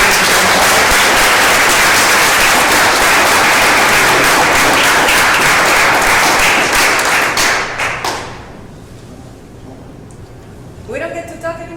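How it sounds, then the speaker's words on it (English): Audience at a startup event panel on wearables, drones and hardware claps loudly and steadily for about eight seconds, then the applause fades to scattered claps and a few voices. "Another round of applause for our amazing panel."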